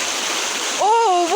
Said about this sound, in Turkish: Şelaleden akan suların oluşturduğu vadi suyu, ırmağı gördüğünüz gibi aşağıdan akıyor.